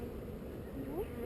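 Honey bees buzzing during a honey harvest, a close, steady, faint hum with one bee passing nearby, rising in pitch near the end.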